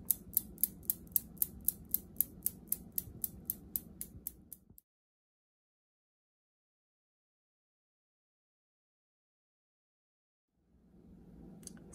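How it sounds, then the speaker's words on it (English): Steel balls of a Newton's cradle clicking as they collide, a rapid regular series of sharp metallic ticks that gradually slow and soften before stopping into silence, close and quiet, with a faint return of sound at the end. "something else that we can see in this energy transfer through Newton's cradle is sound"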